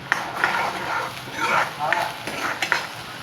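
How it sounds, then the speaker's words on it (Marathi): Masala for chole frying in a pan, a steady sizzle broken by several sharp scraping stirs of the spoon, close and fairly loud with no talking. "आता हा आपण हा छानपैकी तळून घ्यायचा"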